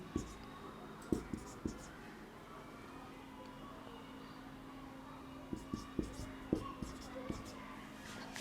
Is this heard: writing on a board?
yes